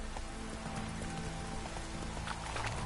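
Roach, the horse in The Witcher 3, trotting with soft rhythmic hoof clops over a low steady background, fairly quiet and close, without any talking.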